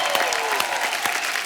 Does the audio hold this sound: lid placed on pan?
no